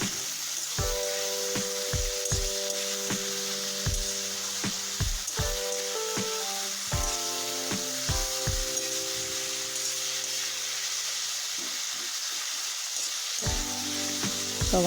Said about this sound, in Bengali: এবার দিয়ে দেব পেঁয়াজ কুচি, দিয়ে একটু নেড়ে চেড়ে পেঁয়াজগুলো লাল লাল করে ভেজে নেব একটু